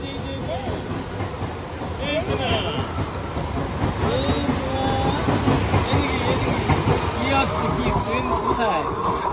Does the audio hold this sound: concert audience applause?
no